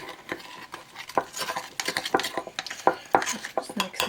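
Alcohol-free hard sauce mixed in a bowl, a busy run of quick clinks, scrapes and taps of a utensil against the dish, close and fairly loud, without talk.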